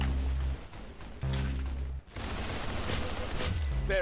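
Gunfire in the Roblox Arsenal video game, dense continuous shooting and impact bursts throughout, loud with brief dips between volleys.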